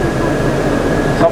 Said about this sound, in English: That was an underground train which was passing below the tower